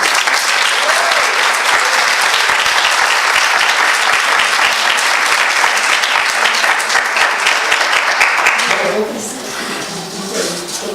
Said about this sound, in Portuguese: para os aplausos dos senhores, a divina Raquel